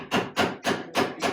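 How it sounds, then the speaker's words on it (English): Five sharp hammer blows knocking wooden plugs flush during a rocker assembly, evenly spaced and close up, each a crisp woody knock with no talking. "Use your hammer and"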